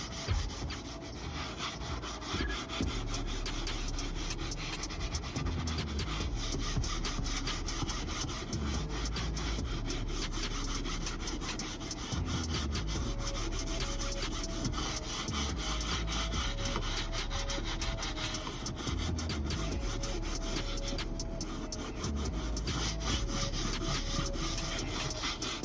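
Leather car seats are scrubbed with Gyeon Leather Coat using a brush, heard as continuous close, rhythmic scratchy rubbing strokes that last throughout with no talking.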